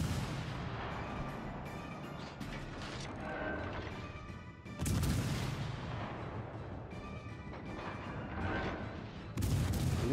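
Heavy naval guns boom in a World of Warships: Legends battle, with a ship's rear turrets firing salvos. Loud blasts land roughly every few seconds over a constant rumbling din of distant fire and engine noise.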